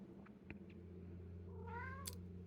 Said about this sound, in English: My cat says hi.